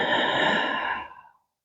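A single long breath is drawn through a stuffy nose during a gentle Pilates stretching class, a close, airy, congested hiss lasting just over a second before fading out.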